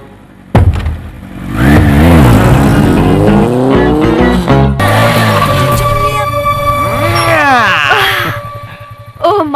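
Motorbike ride in a Hindi-dubbed film scene, a loud engine roaring and revving with pitch sweeps and whooshing passes, mixed with music over nearly ten seconds.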